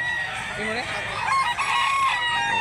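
Roosters crow close by, overlapping calls with drawn-out rising and falling tones, alongside clucking chickens in a busy yard at a chicken market in Mantalungon, Barili, Cebu.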